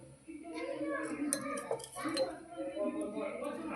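Metal spoon clinking against a bowl while salt is added to atta flour for roti dough in a home kitchen, a few light, close taps and clinks under someone talking.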